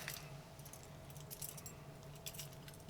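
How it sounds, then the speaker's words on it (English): Metal keys jangle and clink in quick, irregular bursts close by, a soft steady hum underneath, while a film subscriber package is being opened. "Let's get some keys out."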